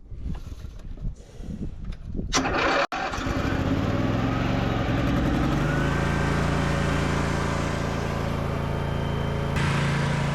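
A diesel engine, just fitted with a new fuel filter on its diesel tank, cranks and catches after a sharp click, then settles into a loud, steady idle that runs on alone with no talk.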